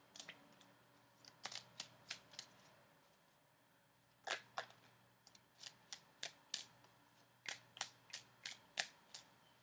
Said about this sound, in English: I'm going to shuffle for a few more seconds.